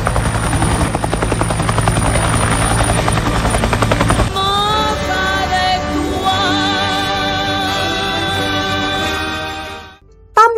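A helicopter arrives at an outdoor event, its rotor thumping loud and close in a steady rapid beat, then shifting to a droning, whining engine tone that continues until the sound cuts off near the end.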